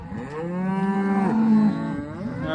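Cattle being worked through pens for vaccination give a long, loud, drawn-out moo close by, with a second lowing call rising near the end, no speech.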